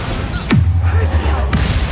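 A Confringo blasting spell goes off in the video game Hogwarts Legacy, a sharp crack that drops into a deep rumbling boom, followed a second later by a second sharp burst, loud and close.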